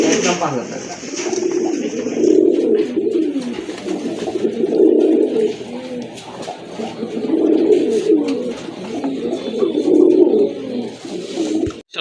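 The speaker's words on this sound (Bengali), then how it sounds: "আরেক জোড়া কবুতর রেড রেসার কবুতর" Red racer pigeons coo repeatedly in low, throaty rolling phrases, close by, with someone talking over them throughout.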